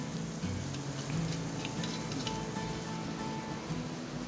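Chopped onion and green chillies frying in hot oil for a Kerala-style prawn theeyal, giving a steady, soft, continuous sizzle with faint crackles throughout and no voices.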